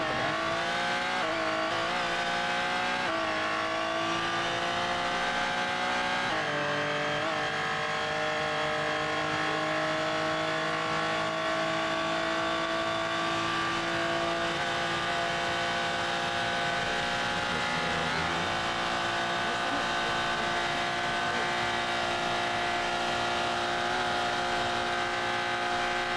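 A high-performance sports car engine in the BeamNG driving game revs and accelerates continuously, its strong harmonic whine rising and dropping with gear changes, loud and alone with no talk.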